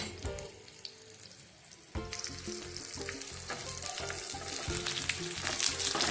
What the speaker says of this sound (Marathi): इथे तेलामध्ये कांदा टाकलेला आहे भाजायला